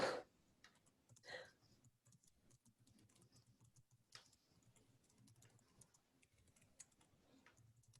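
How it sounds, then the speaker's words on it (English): Faint, quiet clicks of keyboard typing during a webinar come in scattered bursts in the background, with a few soft rustles and a low hum. "I can hear some typing in the background, which is always exciting."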